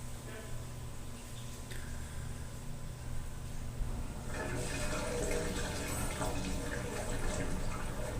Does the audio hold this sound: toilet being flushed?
yes